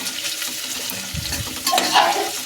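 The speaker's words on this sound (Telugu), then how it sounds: "పచ్చిమిర్చి, ఆనియన్ 2 ఒకేసారి వేసుకొని వేయించుకోవాలి. ఇందులోకి హోల్ గరం మసాలా వేసుకోవాలి." Green chillies and onion fry in hot oil with whole garam masala while being stirred, a soft steady sizzle with scraping stir noises that swell louder toward the end; no talking.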